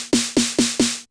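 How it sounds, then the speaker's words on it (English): Four evenly spaced hits of a TR-909 snare drum sample on a Korg Electribe 2, each a bright noisy crack over a tonal body with a short decay, loud and alone. "It's a sample of the TR-909 snare drum"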